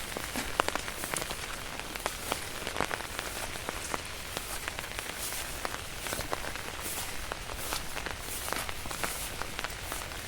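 Steady rain patters across a surface throughout, dense and continuous with scattered sharper drops, no voices.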